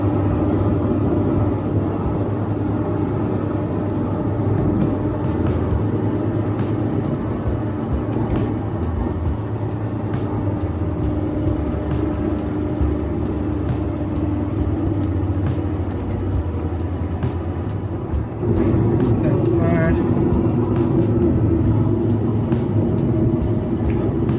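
A VW T4 van's engine drones steadily while climbing a hill in fourth gear, a continuous low rumble heard from inside the cab with a brief dip and shift in tone near the end.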